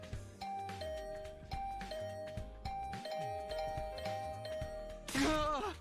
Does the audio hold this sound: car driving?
no